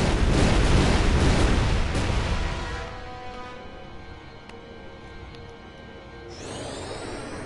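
Kimahri's fire breath attack in Final Fantasy X HD roars as a loud, dense fiery blast for about three seconds, then thins into a quieter sustained rumble with faint shimmering tones and a short swell near the end.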